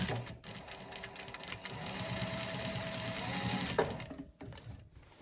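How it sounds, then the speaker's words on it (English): A sewing machine runs a steady, rapid stitch through rolltop rucksack fabric, close and moderately loud, with a brief shift near the end as it back stitches into a corner before stopping. "I'm just gonna sew from about here down there, do a good old back stitch right into that corner."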